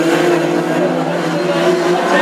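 Classic hot rod race cars roar close by at Aldershot oval, several engines droning and revving together side by side in a loud, continuous blur as they pass.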